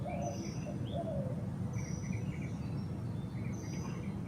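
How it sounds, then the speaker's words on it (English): Birds singing at sunrise: several faint chirps and short whistled calls scattered over a steady low outdoor rumble, with no voices. "there's a lot of birds, and that's for good reason"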